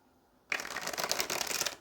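After a brief quiet moment, a deck of oracle cards is shuffled by hand, a close, rapid papery riffling and flapping that continues steadily to the end, with no talk.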